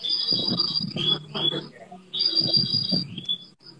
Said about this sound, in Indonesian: Ada suara burung.